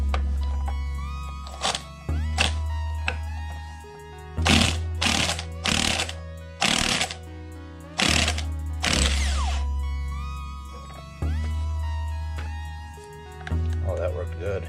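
A Milwaukee 18-volt half-inch impact driver with a 9.0 battery hammering at stator bolts on a 1998 Harley ElectraGlide Classic, loud close bursts of rattling impacts separated by pauses and idle motor whine.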